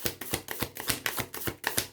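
Fortuna Tarot Amethyst Aura cards shuffled hand over hand, a quick rhythmic series of close papery slaps and riffles, about a dozen bursts in two seconds, with no voice.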